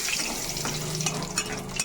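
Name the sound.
whole garam masala frying in oil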